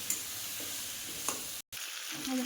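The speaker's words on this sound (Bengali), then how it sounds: "পটলটার সঙ্গে হলুদ লবণ সব কিছু দিয়ে আমি ভালো করে লাল লাল করে ভেজে নেব" Pointed gourd pieces fry in hot oil with turmeric and salt, a steady close sizzle with a few stirring scrapes, broken by a brief cut near the end.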